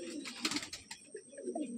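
Small, feather-quality pigeons cooing in a loft, soft low murmuring coos repeating through the clip at close range, with faint background chatter.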